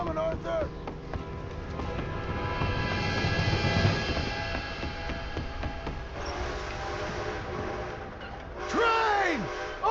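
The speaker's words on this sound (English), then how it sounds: "A train!" An approaching train in the Red Dead Redemption 2 video game rumbles steadily underneath game voices and music, with a dense mechanical roar and a rising screech near the end.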